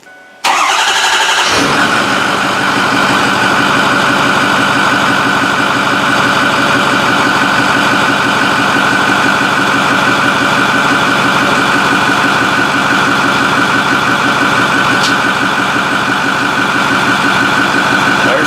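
A Ford F250 with a 6.4 Powerstroke diesel cranks briefly, catches loudly and settles into a steady, close, rattling idle that runs without a break to the end.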